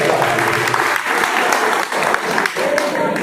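A crowd at a workers' meeting in Malegaon breaks into dense, steady applause, loud and continuous from start to finish with no pauses.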